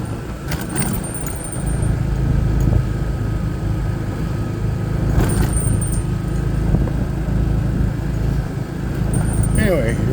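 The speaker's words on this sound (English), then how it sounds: "here we are driving through the parking lot" A car rolling slowly through a suburban Chicago parking lot, with a steady low engine and road rumble heard from inside and a few brief higher squeaks and clicks.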